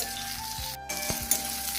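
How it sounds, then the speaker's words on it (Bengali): Teasel gourd (kakrol) pieces fry in hot oil with a steady, soft sizzling hiss and a few faint pops and clicks, low in level and close. "আমার কাঁকরোল ভাজা হয়ে গেছে"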